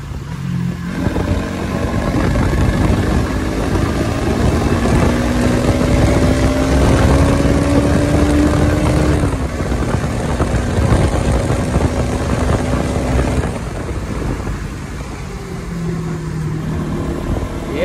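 A Bajaj Pulsar NS200 BS6 motorcycle engine revs steadily and loudly nearby, pitch climbing and holding, then dropping and rising again across a long sustained run.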